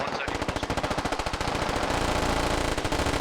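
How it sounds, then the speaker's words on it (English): Sustained automatic machine-gun fire in the military shooter game Squad, a rapid unbroken stream of loud close shots that continues throughout. "Lots of rounds being used here."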